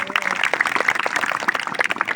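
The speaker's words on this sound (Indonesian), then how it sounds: "Tepuk tangan dulu untuk Pak Made." Audience applause at a ceremonial gathering with speeches, a short burst of scattered hand claps at moderate level, fairly distant and without speech.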